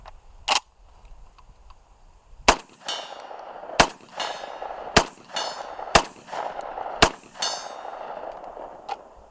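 A Hatsan Escort DF12 shotgun fires slugs into a van downrange outdoors, six sharp loud reports spaced about a second or more apart, each followed by a ringing metallic clang and echo.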